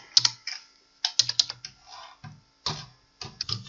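Someone types a login and password on a computer keyboard: close, crisp key clicks in quick irregular bursts separated by short pauses, with no other sound.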